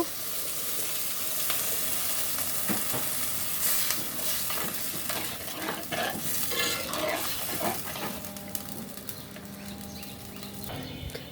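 A pot of vegetable curry broth boiling after water is added, giving a continuous bubbling, spitting sizzle with scattered clinks and faint chirps in the background, no talking.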